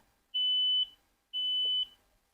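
Two steady high-pitched electronic beeps from Edifier X2s wireless earbuds in locator mode, each about half a second long, separated by a short pause, clear and alone with no talking.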